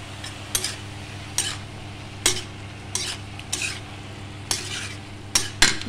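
Vegetables and tomato fry in a pan with salt, a soft steady sizzle under repeated clanking strokes of a spoon stirring against the pan, close and uneven in rhythm.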